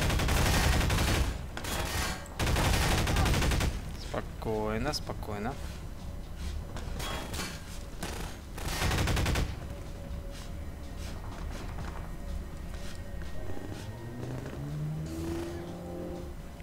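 Bursts of automatic gunfire and loud weapon blasts from the video game Half-Life 2, heavy and close in the first half, then quieter game sounds with someone speaking.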